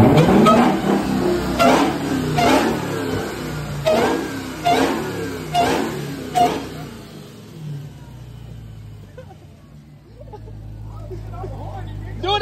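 A car with a swapped-in 4-valve V8 revs in several sharp, loud bursts, then settles into a low steady idle while people talk nearby.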